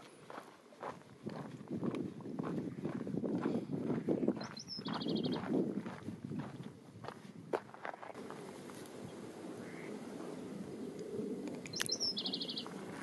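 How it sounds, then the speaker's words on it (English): Footsteps crunch along a desert hiking trail in the McDowell Sonoran Preserve while a few short songbird chirps ring out faintly in the background, then the steps fade and a bird calls again. "I can hear a singing bird,"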